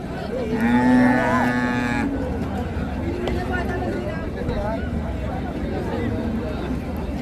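A crossbred dairy cow moos at a busy cattle market, one loud, long low call close by, then fading into a constant murmur of crowd talk and animal noise.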